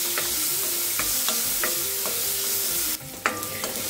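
Tomato and turmeric sautéing in a hot pan, with repeated ladle scrapes and taps over a constant sizzle, then a louder burst of spitting hiss near the end; no talk.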